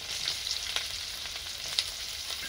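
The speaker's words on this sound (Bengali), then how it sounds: "ভালো করে চিংড়ি মাছের সঙ্গে এগুলো ভেজে নেব" Kalonji, slit green chillies and chopped onion fry with prawns in a pan, giving a steady close hiss of hot oil with a few soft stirring ticks. No one speaks.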